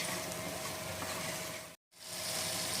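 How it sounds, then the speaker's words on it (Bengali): Spice masala for Bengali mutton curry being fried down in oil, a dense, even sizzle filling the pan, briefly cut off near the end before resuming just as loud. "কষানো চলতেছে বন্ধুরা"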